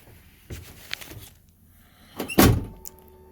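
Mechanical clunks and a rattling thump of a 2005 International school bus door being worked open, a few scattered knocks followed by one heavy bang near the end.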